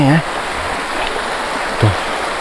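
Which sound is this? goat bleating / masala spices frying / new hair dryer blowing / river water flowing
river water flowing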